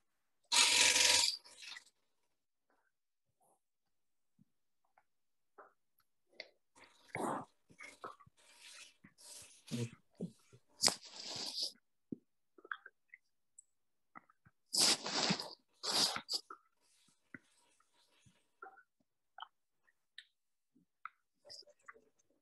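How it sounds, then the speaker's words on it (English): A wood-turning scraper shaping a wooden sushi dish on a lathe, heard as intermittent raspy scraping bursts separated by quiet gaps, close and fairly loud. "I'll switch to the scraper."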